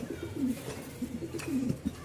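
A male pigeon at a pigeon farm coos in repeated low, throaty phrases, close and fairly loud, with soft background noise and no talk.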